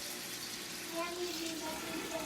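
Water pours into a pot of chicken korma as a soft, continuous splashing flow, fairly quiet, with a voice speaking over part of it.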